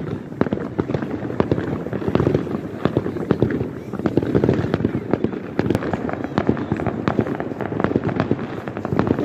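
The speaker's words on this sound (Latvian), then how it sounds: "Kur vēl salūti?" Fireworks burst over a city on New Year's Eve: a dense, continuous barrage of sharp bangs and crackles, some close and some farther off, filling the whole stretch without a break.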